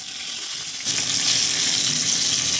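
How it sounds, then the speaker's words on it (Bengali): Hot oil sizzles steadily in a wok, then jumps to a louder, fuller crackle as fish heads drop into the pan. The frying hiss continues close and unbroken. "কড়াইতে তেল দিয়ে তেল গরম হয়ে গেলে মাছের মাথাগুলো ভালো করে ভেজে নেব।"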